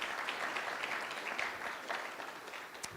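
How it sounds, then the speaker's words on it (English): Soft, distant applause from an audience at a guide dog school graduation, steady patter of many hands welcoming a visiting group from Snohomish, Washington, fairly faint throughout. "We can give those group a round of applause."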